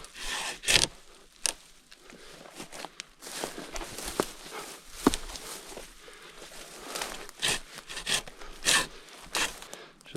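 A hand saw undercuts a fallen tree trunk on a hurricane-damaged trail, making uneven rasping strokes that come and go, mixed with scraping and rustling, at moderate distance and fairly quiet.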